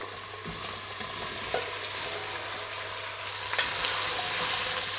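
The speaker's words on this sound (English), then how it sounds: "So I'm going to soften the onion first." Onion, carrots and celery fry in a pan for a soup, giving a dense, even sizzle close up, with a couple of soft stirring knocks and no voices.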